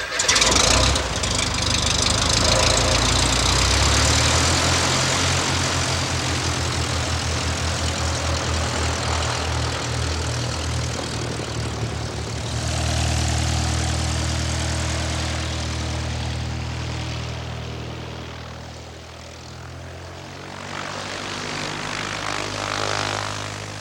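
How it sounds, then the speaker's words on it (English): A light single-engine propeller airplane roars at full throttle for a short-field takeoff, loud and close with a steady droning engine note that eases off slightly partway through and then builds again, with no voices. "After completing my checklist, I adjust the mixture at full throttle for maximum RPM."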